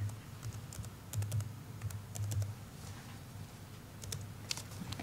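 Clicking keystrokes on a computer keyboard, faint and intermittent, coming in short bursts of several quick taps separated by pauses, with a low background hum underneath.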